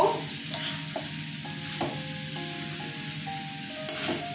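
Papaya ghonto with potato and peanuts sautéing in a pan, a steady low sizzle with occasional scraping stirs and light utensil clicks against the pan.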